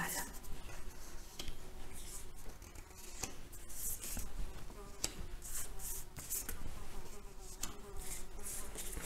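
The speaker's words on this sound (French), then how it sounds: "j'ai une mouche qui bise, qui m'embête" A small fly buzzes close by in intermittent bursts, with faint rustling and shuffling noises underneath.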